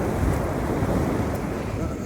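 Ocean surf on a Long Island beach during the late-fall striper run, a steady broadband wash of breaking waves close by, mixed with wind buffeting the microphone.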